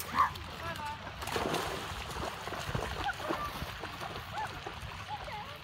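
A Labrador swims and splashes through water, with irregular splashes and sloshing at close range while people talk and call out nearby.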